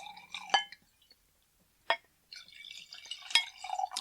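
Liquid poured into a glass at a casual hosted gathering, in a few short splashy bursts separated by pauses, then a steadier trickling fill near the end, close and fairly quiet.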